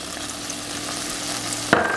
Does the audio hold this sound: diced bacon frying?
yes